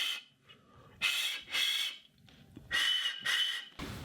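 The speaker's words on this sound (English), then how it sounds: "It's still a lot of just air noise, but it does make a little whistle there." A lampworked musical glass pipe is blown in short bursts, about five airy whistles with a breathy hiss, each lasting roughly half a second with brief pauses between, close and fairly loud.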